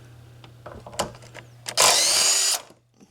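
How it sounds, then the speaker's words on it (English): A small cordless impact wrench with a 13mm socket works a rusty fender bolt: a few short clicks and taps, then one loud close burst of hammering for under a second before it stops. "small impact, cordless impact with a 13mm socket"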